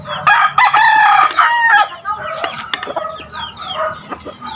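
A red lemon sweater gamecock rooster crows loudly and close, one long harsh cock-a-doodle-doo followed by softer clucking and farmyard chatter.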